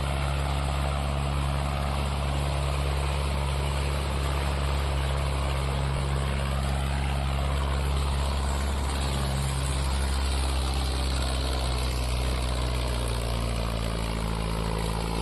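Tractor engine running steadily while hauling gravel and stones, a loud continuous low rumble with a constant drone throughout, close by and without pauses or talking.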